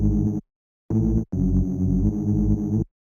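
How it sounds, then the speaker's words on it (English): Filthy Reese-style bass in a UK garage vein, with thick, buzzing, detuned sustained notes in short bursts, a brief gap, then a longer held phrase, loud and alone. "Really filthy Reese type bass"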